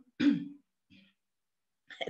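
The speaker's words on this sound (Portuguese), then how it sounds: "tô tossindo agora sem parar" Two short coughing bursts, a strong one followed by a faint one, then a third rougher burst at the end, close and otherwise quiet.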